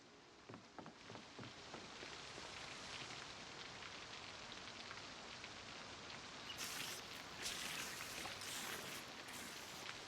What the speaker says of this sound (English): with it all being rainy and stormy and dark and ugly